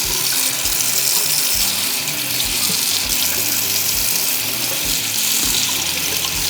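Cold tap water runs steadily into a kitchen sink while an onion is peeled under the stream, giving a loud, continuous hiss with faint handling knocks and no speech.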